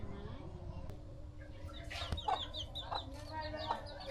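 Chickens and their chicks cluck and peep quietly on a farm, with soft low clucks mixed with scattered high chick cheeps, faint and close throughout.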